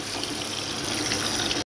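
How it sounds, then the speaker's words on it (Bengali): Tap water pours steadily while rice is washed in a kitchen, a close, continuous gushing that cuts off abruptly at the end. "তো আমরা চালটাকে ধুয়ে নেব।"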